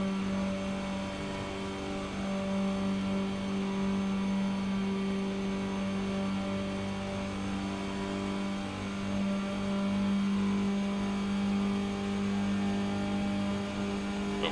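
Steady droning race car engines in iRacing at Daytona hum continuously at moderate volume, a sustained mechanical whine with no talking.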